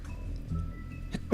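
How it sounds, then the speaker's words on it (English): A person sneezes once, a sudden loud burst at the very end after a moment of quiet room noise. "I have to sneeze."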